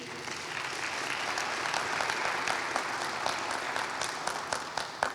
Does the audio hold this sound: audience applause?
yes